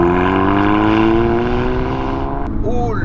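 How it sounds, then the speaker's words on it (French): Porsche Cayman 987 with a Berry-Inox exhaust pulling away, a loud steady engine drone with strong harmonics that fades slightly before a brief rising whine near the end. "j'ai une seule hâte, c'est de faire les premiers tours de roue et d'écouter cet échappement."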